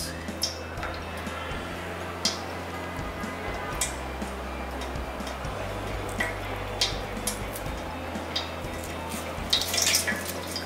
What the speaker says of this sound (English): You can see the water dripping down.